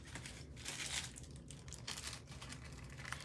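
Paper card edges are folded by hand, giving quiet close crinkling and soft creasing rustles in short bursts, with no voices.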